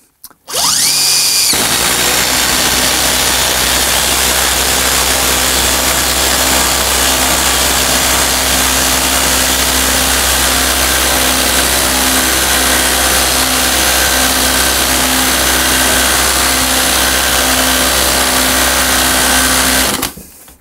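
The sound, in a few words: impact driver running at full speed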